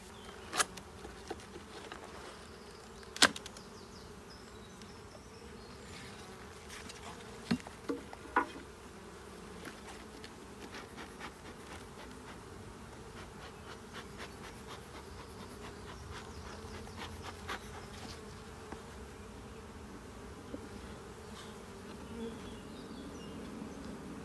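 Bees from an opened honeybee hive fill the air with a faint, steady buzzing hum, scattered with soft taps and clicks of handling, heard close and without talk.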